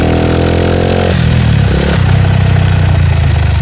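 A bicycle fitted with a motorcycle engine runs loud and close, its buzzing pitch rising and falling as it revs, shifts through gears and climbs a hill.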